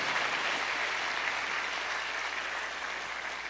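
A church congregation applauds during a Holy Spirit gifts seminar session, with dense, steady clapping from many hands at a moderate distance that continues evenly throughout.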